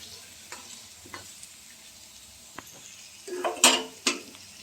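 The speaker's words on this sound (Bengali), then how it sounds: "আলুগুলো দেখুন এই পর্যায়ে ভাজা হয়ে গেছে, কুমড়োটা তো একদমই গলে গেছে, আলুটাও ভাজা হয়ে গেছে" Potatoes and pumpkin fry in a pan with a faint, low sizzle, broken up by a few scattered scrapes of a utensil. Near the end comes a louder clatter of metal. No voice is heard.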